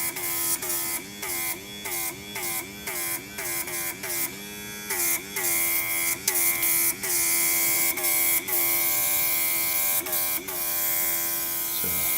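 A small MakerX airbrush runs as a steady electric buzz with a hissing spray, pulsing in short repeated bursts as the trigger is worked, close and fairly loud throughout.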